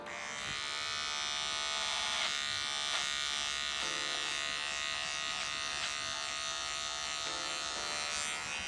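Electric beard trimmer cutting through a beard, a close, steady high-pitched buzz with brief changes in tone as the blades move against the hair, no speech over it.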